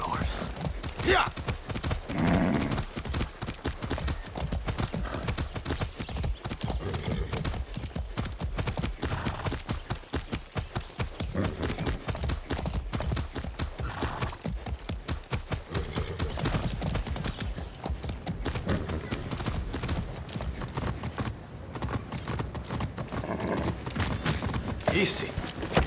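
Horse hooves clip-clop steadily throughout a Far Cry 6 game scene, a dense, continuous patter of hoofbeats up close, with game voices and ambient sound occasionally speaking over it.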